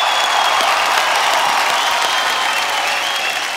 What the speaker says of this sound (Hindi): एक बार आप सबके लिए जोरदार तालियां हो जाए।